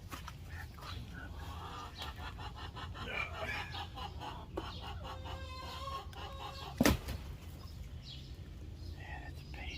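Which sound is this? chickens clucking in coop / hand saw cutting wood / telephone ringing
chickens clucking in coop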